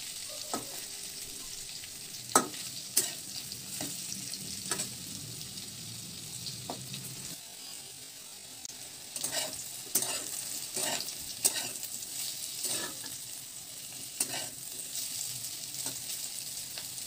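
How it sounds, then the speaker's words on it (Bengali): Amla (Indian gooseberries) sizzle steadily in a pan while a spatula scrapes and stirs them, the clicks and scrapes coming at irregular intervals over a soft continuous frying hiss. "আমলকিটা আমাদের ভাজা হয়ে গেছে"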